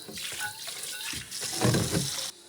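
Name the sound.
carbon steel wok being rinsed with hot water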